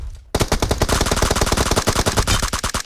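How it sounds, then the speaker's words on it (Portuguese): Rapid automatic gunfire in the battle royale game PUBG Mobile, a loud sustained burst of closely spaced shots starting abruptly after a brief quiet moment and running continuously to the end. "Escutei um tiro aqui"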